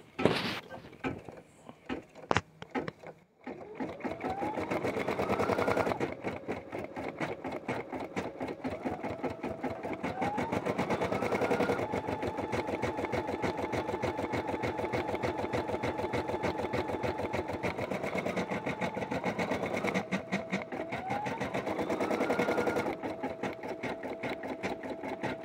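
An embroidery machine stitches a design in an extra-large hoop after a few clicks of setup, then a long run of fast, rhythmic needle chatter with brief motor whirs as the hoop shifts, loud and close, with no talking.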